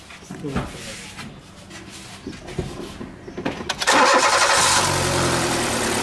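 A car engine is cranked and catches after a valve repair, settling into a loud steady idle following a few seconds of brief clanks and handling noises.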